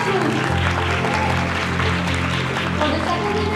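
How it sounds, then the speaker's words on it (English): Sustained audience applause fills the room at the finale of INNOVENTURE 2026, a business competition awards ceremony, dense and steady from start to finish with a faint voice underneath. "Let's give a round of applause to Indonesia Consulting Group."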